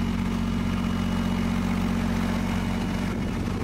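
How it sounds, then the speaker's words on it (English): A PowerTech Ultimate 8kW generator aboard a 2002 Dutch Star DSDP 4095 motorhome runs steadily at idle, a constant low droning hum with even mechanical vibration throughout and no voices. "This is the PowerTech Ultimate 8kW generator."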